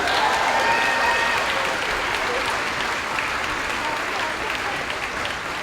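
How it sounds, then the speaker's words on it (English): Applause from a crowd at a fifth-grade moving-up ceremony fills the room, a steady, dense wash of clapping that holds at an even level throughout, with a faint voice briefly audible near the start. "let's just give them one big round of applause now they're all in here"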